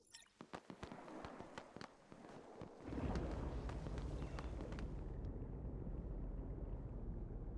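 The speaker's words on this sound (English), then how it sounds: "Sounded like somebody had fireworks popping off behind me." Quick sharp pops and crackles from fireworks in the Tower of Fantasy game burst rapidly for a few seconds, then give way to a dense, steady roar of ambience.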